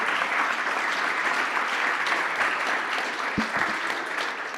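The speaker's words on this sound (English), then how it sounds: "you can applaud" An audience applauds the panelists at the close of a panel discussion, steady, full clapping from a sizable room, with a couple of low thumps partway through.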